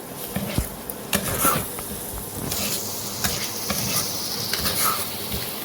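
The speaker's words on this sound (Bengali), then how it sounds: "ধনের গুঁড়ো কাশ্মীরি লঙ্কার গুঁড়ো নুন আর চিনি এইটা দিয়ে আমি এটা কষাচ্ছি" Spices — coriander powder, Kashmiri chili powder, salt and sugar — stir-fried in a little oil for a pointed gourd dorma, giving a steady soft sizzle with scattered scraping stirs of the spoon against the pan.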